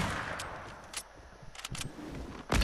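Sniper rifle shots in a Fortnite one-shot free-for-all match, sharp cracks ringing out amid a busy stretch of distant gunfire, with a louder close blast at the very end.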